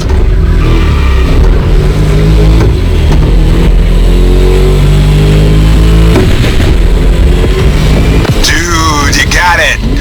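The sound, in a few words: car engine starting and revving in The Crew video game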